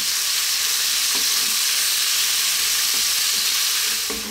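Beef and whole mushrooms fry over medium heat in a pan, giving a loud, continuous close hiss of sizzling oil with a few soft clicks of stirring, without any speech.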